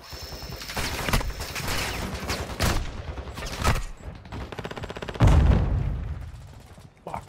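Heavy gunfire in Call of Duty DMZ on the Ashika map, with rapid bursts and single sharp shots cracking throughout, a louder close volley near the end, and no talk over it.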